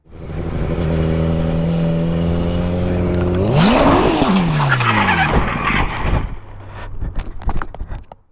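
A Ford Mustang skids out of control on a road in Russia: a loud engine drone rises into a sustained tire squeal, sweeping in pitch, followed by rough scraping noise and a lower idling hum as it settles.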